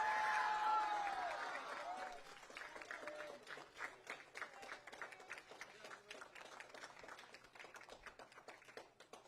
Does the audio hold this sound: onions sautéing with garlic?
no